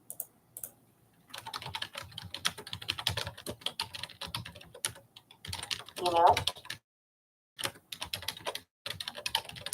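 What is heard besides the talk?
typing on a computer keyboard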